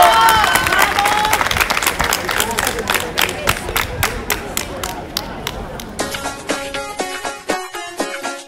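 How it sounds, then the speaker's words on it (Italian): Audience applauding at a Zumba recital, a burst of crowd clapping and cheering that thins into scattered claps, with music starting up partway through and some voices in the crowd. "Facciamogli un applauso, dai."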